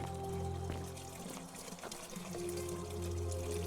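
Water pours steadily into a toilet in the video game The Forgotten City, a soft, continuous trickle over low ambient hum, with no talking.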